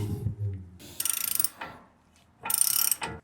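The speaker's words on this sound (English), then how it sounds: "I got my 36 millimeter socket breaking my axle nut" A 36 mm socket on a breaker pipe cracks a CV axle nut loose on a Ram truck, giving sharp metallic ratcheting bursts and clanks in short separate bursts with quiet gaps between them.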